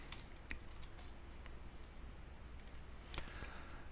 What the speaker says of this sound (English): I guess I could just click and type it in here.